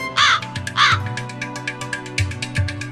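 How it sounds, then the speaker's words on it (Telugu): A crow caws loudly and close by, two harsh calls in a row, over a steady, low musical drone. "కాకి సమాధానం చెప్తుంది"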